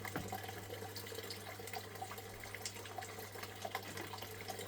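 Steady water flows and splashes over a gold prospecting sluice with a test mat, a continuous close rushing wash with no voices.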